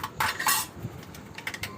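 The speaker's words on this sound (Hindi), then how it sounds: "ये मेरे बर्तन साफ़ हो चुके हैं" Cleaned dishes, pots and metal utensils clatter and clink in a home kitchen, with a burst of rattling near the start followed by scattered lighter clinks, fairly close and with no talking.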